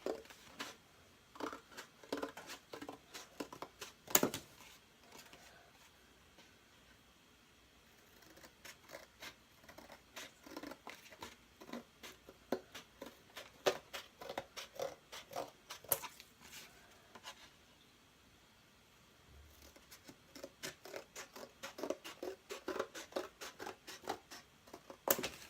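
Paper is cut with scissors or a blade to make a Christmas deer lantern: long runs of quick, rhythmic snipping and scratching, broken by a few pauses and one sharper crack, close up with no voices.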